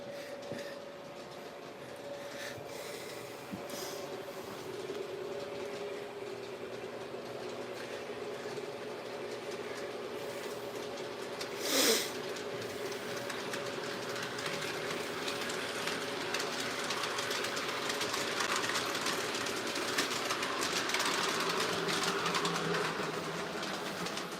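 Model train, a Dash 9 locomotive, running on an attic layout late at night, a quiet continuous clickety rolling with a faint steady motor hum and one brief sharper click midway.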